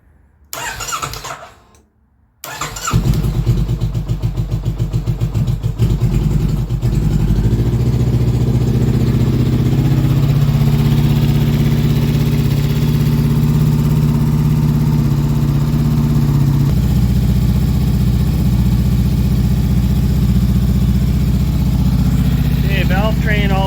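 A truck engine with a glass pack muffler cranks and catches, then settles into a loud, deep, rumbling idle that runs on steadily, with a throaty muffler tone.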